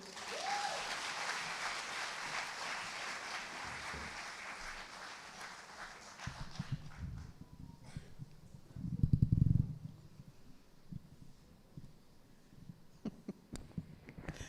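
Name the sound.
audience applause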